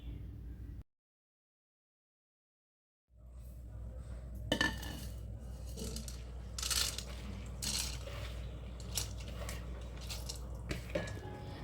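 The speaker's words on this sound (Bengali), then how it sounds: "সেজন্য ডালটা ধুয়ে নিচ্ছি" Dal being washed for a breakfast dal chorchori, with close clattering, scraping and grainy rustles that keep up steadily after a brief silent pause.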